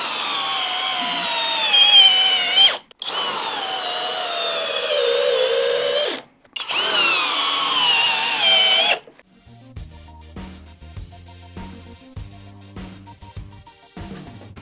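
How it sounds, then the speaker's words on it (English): A cordless drill drives a 6-inch timber lock screw in three loud, close, whining bursts, with the motor pitch sagging as it bites into the wood and brief pauses between bursts, followed by quieter clicking and clatter. "we are going to be capping it off with a 6-inch timber lock screw"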